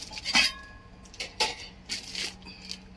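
A tin-lined brass biryani pot is handled, producing several bright metallic clanks and clinks spaced irregularly at close range, with quiet gaps between them.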